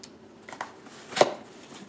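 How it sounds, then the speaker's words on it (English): A cardboard delivery box being cut open, with a few soft scraping sounds and one sharp slice or tear standing out briefly, close by and fairly quiet. "here's the box, and let's cut this open"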